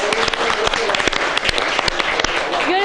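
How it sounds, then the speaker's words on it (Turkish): A crowd at a televised event applauds with brisk, dense clapping for football players, sharp claps standing out over the steady patter, while a voice talks over it. "Alkışlarımız."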